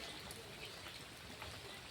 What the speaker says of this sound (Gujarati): વરસાદ આવી ગયો છે ધીમો ધારી